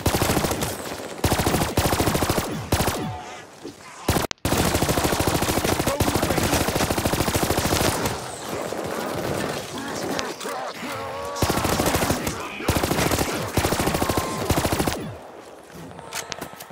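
Rapid bursts of automatic gunfire fill a CoD Vanguard Zombies match, loud and dense, with brief pauses between long volleys and faint voices beneath.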